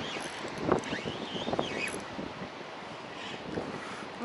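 Steady wind buffets an open fishing boat on the water during a drop-shot session for zander, a continuous airy rush with faint rustling and no voices.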